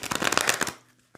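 Tarot cards are riffled and shuffled right up against the microphone in a quick burst of crisp papery flicks lasting under a second, followed by a near-silent pause and a faint final tap.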